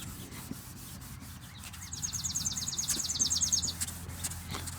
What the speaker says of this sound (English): And now I'm going to start scrubbing left to right because that's what it tells us to do.